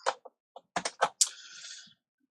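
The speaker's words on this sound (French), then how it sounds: "quand vous appuyez sur Alt-GR et le chiffre 6 en haut du clavier des lettres" A few sharp clicks of keys pressed on a computer keyboard, Alt-GR and the 6 key, heard close and crisp in short separated taps followed by a brief tail.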